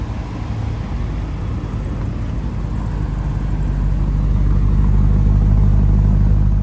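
A Lamborghini Urus Mansory idles in Corsa mode with a deep, steady engine rumble, close by and alone, swelling slightly louder toward the end.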